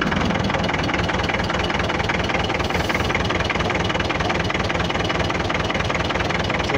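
A positive-earth International B414 tractor engine idles close by, a loud, steady diesel knocking and chugging that runs evenly without pause.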